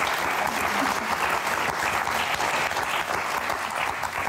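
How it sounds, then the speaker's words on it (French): Studio audience applause on the French TV game show Motus, a thick, even roar of clapping from many people that runs unbroken and fairly loud for the full length. "Bravo, applaudissements pour Sullivan et Tiffany."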